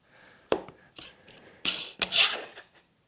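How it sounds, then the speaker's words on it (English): Sharp taps of a chisel making relief cuts in wood down to knife lines for small dados, a few distinct close knocks and scraping strikes with quiet pauses between. "I want to just make relief cuts down to the bottom of those knife lines."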